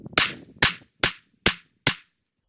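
Five slow, evenly spaced shots from a Glock 43X pistol, each a sharp, loud crack with a short decay into silence, no talking.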